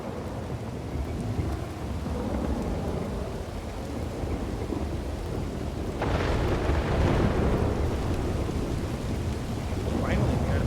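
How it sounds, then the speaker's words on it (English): Steady heavy rain hisses throughout a thunderstorm in the video game WildRP, with a rumble of thunder swelling around the middle, continuous and enveloping with no talk. "Finally, we got a big rain on Gorm."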